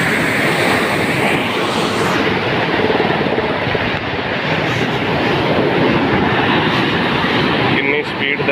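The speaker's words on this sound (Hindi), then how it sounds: "कितनी स्पीड के नाल जनाब पानी गुजर रहा है।" Canal water swollen by rain rushes past fast in a loud, steady, broadband roar that never lets up.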